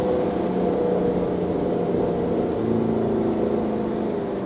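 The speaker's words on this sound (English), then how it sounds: "That super sharp note at the top end, it didn't have that. It would go up," A rebuilt Corvette with a brand new engine runs at high revs, giving a loud, dense, continuous drone with a slight shift in pitch partway through.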